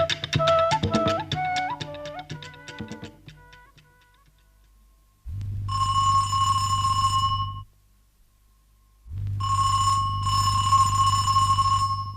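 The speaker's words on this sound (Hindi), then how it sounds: "कितनी देर से डोरबेल बजा रहा हूं" A chiming doorbell melody rings out, then an electric buzzer sounds twice in long, loud, sustained blasts separated by a short silence, in a 1991 Hindi radio play.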